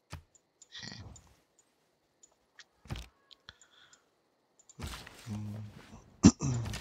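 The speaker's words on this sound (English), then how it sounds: "I cough a lot." A person coughs several times in short scattered bursts, with quiet clicks between them and a louder cluster of coughs toward the end.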